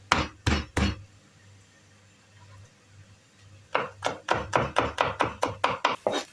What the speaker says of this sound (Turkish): mantar sotemiz için sarımsaklarımızı şimdi doğrayacağız.